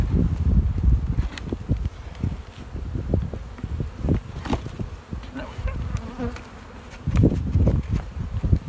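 Honey bees swarm around an open beehive during a beekeeping class, a dense, close buzzing hum with rustling and handling noises among the frames.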